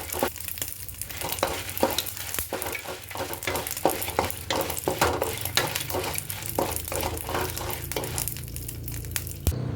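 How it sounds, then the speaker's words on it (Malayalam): Dry red chillies roasting in a pan for a Kerala-style pickle: steady crackling and rustling with repeated scraping strokes of stirring, close and continuous throughout, with no talking. "ഒരു പാത്രത്തിലേക്ക് മുളക് ഇട്ടിട്ട് നന്നായിട്ട് വറുത്തെടുക്കുന്നുണ്ട്."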